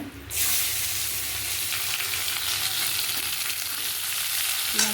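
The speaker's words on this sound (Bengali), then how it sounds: "পেঁয়াজটা ভেজে নেব পেঁয়াজটা ভাজা হয়ে গেছে" Onions frying in hot oil in a kadai with bay leaf, dried chilli and whole cumin, a loud continuous sizzle that starts suddenly and holds steady up close.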